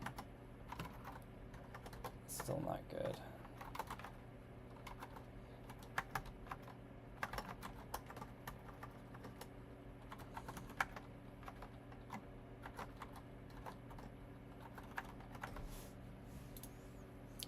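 Steady clatter of typing on a computer keyboard, keys tapped in quick uneven bursts close up for the whole stretch, with a brief louder rustle early on and a quiet room hum underneath.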